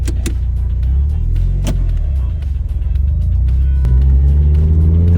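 A Toyota Celica GT-Four ST205 WRC-spec with a right-hand-drive layout runs its turbo engine, a loud continuous rumble rising and falling with throttle, with some clicks and knocks over the engine noise.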